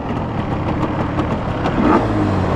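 A 1970s Japanese air-cooled parallel-twin two-stroke motorcycle revving, a loud buzzing engine note that climbs steadily and swells toward the end, heard alone without talking.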